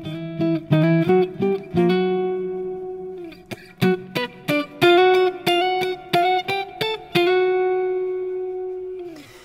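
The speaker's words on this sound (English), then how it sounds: "The last phrase is also the most melodic and is entirely played with octaves." Melodic neo-soul phrase on a clean electric guitar played in octaves, a run of plucked paired notes with quick attacks and short decays, some held longer, loud and solo without speech.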